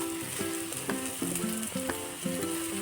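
Taro leaf pakoras sizzling as they roast in a pan with no oil, steady close crackling and hissing with occasional sharp clinks of a utensil against the pan.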